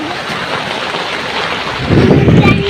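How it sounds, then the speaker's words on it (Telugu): Heavy village rainstorm pours in a dense, continuous wash with loud wind-like buffeting that swells near the end. "వాన మాత్రం బీభత్సం ఇస్తుంది"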